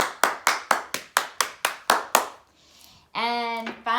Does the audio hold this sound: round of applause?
yes